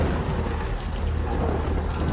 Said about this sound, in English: That is a thunderstorm.